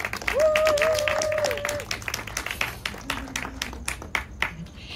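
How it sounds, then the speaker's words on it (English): Audience applause at an evening panel talk on sustainability in film production, held in a private club: a burst of dense clapping close by with a brief whistle near the start, then thinning out over several seconds. "Let's give Annalisa a round of applause"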